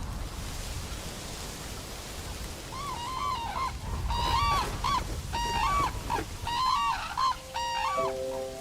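Red-crowned cranes call in a coastal wetland, with repeated loud bugling honks in bursts over a steady hiss of background noise.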